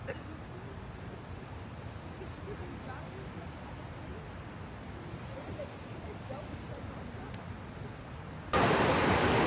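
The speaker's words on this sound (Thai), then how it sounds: "สงสัยจะมีน้ำตกฝั่งนู้นนะคะได้ยินเสียงน้ำตกด้วย" A faint, steady rush of a waterfall in the distance at Blausee, Switzerland, with a few soft bird chirps, ending in a sudden louder burst of noise.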